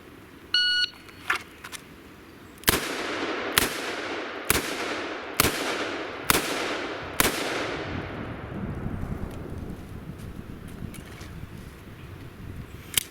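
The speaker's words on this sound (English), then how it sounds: "just see how if I can get a couple good quick shots without super rushing" Six loud, sharp gunshots from a Smith & Wesson 329 PD .44 Magnum revolver, fired about a second apart at an outdoor range, each with a long rolling echo, preceded by an electronic beep.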